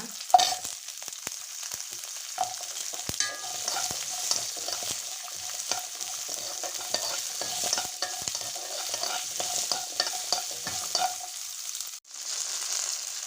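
Sambar onions fry in hot oil for a fish dish and are stirred. The sizzle is steady and close, with frequent spoon clicks and scrapes, and dips briefly near the end. No one speaks.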